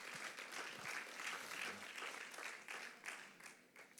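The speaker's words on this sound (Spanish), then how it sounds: "Un fuerte aplauso al maestro entonces." A church congregation applauds during a Spanish-language service, giving a soft, fairly distant patter of many hands that swells and then thins out over a few seconds, with no voices on top.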